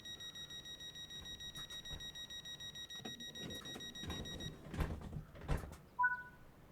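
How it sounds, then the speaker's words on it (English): Train door locking alarm in the Train Sim World 3 video game: a steady repeating electronic beep pattern for several seconds, then it cuts off into a few louder thumps and a short two-tone chirp near the end. "All right, lock doors."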